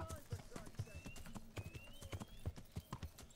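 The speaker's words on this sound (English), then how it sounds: "Horse, you appeared behind me." Horse hooves in the video game Kingdom Come: Deliverance make a quick, regular clip-clop on firm ground, with occasional faint whinnies and a speaking voice over the top.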